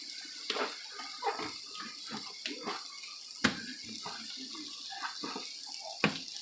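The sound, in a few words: cutting board being washed under running water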